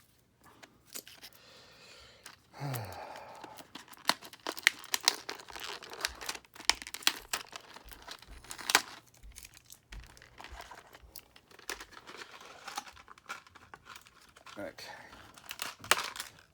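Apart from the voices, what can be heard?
opening taped packaging of a doll playset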